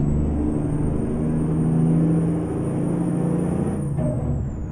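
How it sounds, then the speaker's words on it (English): An International 9800 cabover truck engine in American Truck Simulator hums steadily under a high whine, then a short pneumatic pop of air brake blow-off sounds near the end. "this one has an interesting blow off sound."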